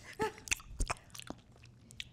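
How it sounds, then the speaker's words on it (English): Close, crisp crunching and wet chewing from people eating at a hot-wings tasting event, a handful of irregular bites over faint background hiss. "You like hearing the sounds of people chew."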